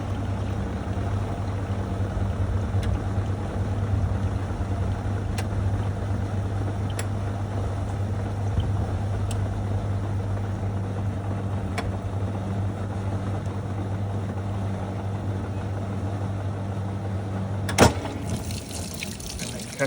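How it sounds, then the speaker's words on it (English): A National NA9450PN washing machine drum coasts down with the motor unpowered after its spin cycle: a steady low hum with watery sloshing, ending in a sharp click near the finish. "Finishes the spin cycle, it coasts down, so it just cuts the it cuts the power to the motor and just lets it coast."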